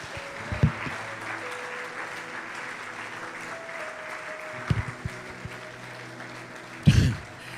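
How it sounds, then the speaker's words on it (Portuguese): Church congregation applauding during a service, a steady wash of clapping under a sustained organ or keyboard tone, with a few louder thumps standing out. "Vamos aplaudir mais uma vez ao Rei da Glória"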